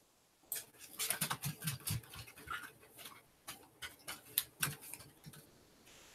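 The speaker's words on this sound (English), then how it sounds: "Hear my dog running back and forth." A dog scampers back and forth indoors fetching pieces of food, its claws pattering and ticking quickly on the floor with light panting, fairly near and steady for several seconds.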